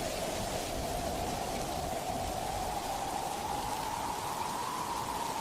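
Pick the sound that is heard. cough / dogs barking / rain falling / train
rain falling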